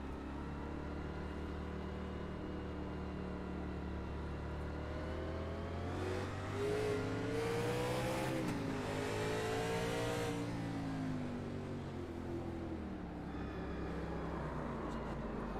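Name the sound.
race cars driving around the track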